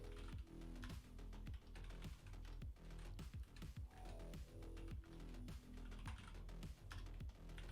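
Rapid, steady typing on a computer keyboard, keys clicking in quick bursts with brief pauses between them, close and fairly quiet against a low background hum.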